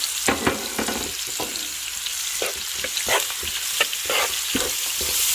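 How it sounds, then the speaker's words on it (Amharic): Beef sizzles with onions and berbere in a pot, a steady crackling fry with scraping stirring strokes and no talking. "ሽንኩርቱም ጥብስ ይላል፣ ስጋውም ጥብስ ይላል፣ በርበሬውም ጥብስ ይላል።"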